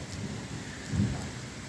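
Heavy monsoon rain pours steadily over farmland in Maharashtra, a dense hiss throughout, with a deep rumble of thunder swelling briefly at mid-point.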